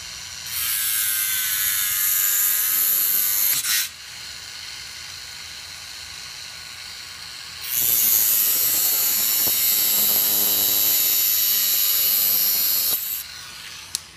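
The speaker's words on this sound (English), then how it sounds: "using the Dremel again to cut a part of the shaft right here" Dremel rotary tool cutting a Tamiya Mini 4WD hollow metal propeller shaft, two sustained high-pitched grinding whines of several seconds each, close up, separated by a quiet pause.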